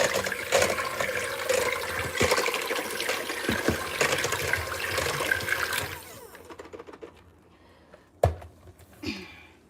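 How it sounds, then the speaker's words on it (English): Liquid flan custard pours steadily into baking dishes over a caramel topping, a continuous close splashing stream for about six seconds that then stops, leaving quiet kitchen sounds and a brief clatter. "Just pouring this right into the dishes over that topping."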